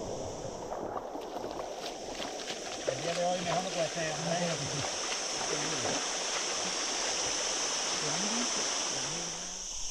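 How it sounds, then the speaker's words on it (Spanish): River water rushes and splashes continuously near the Alcazar waterfall at Baños de Urquizar, a steady close-up flowing roar with people talking over it. "Con cuánta alegría va el agua del río por aquí."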